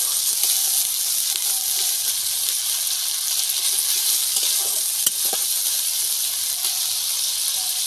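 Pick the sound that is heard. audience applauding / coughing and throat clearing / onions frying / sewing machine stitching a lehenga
onions frying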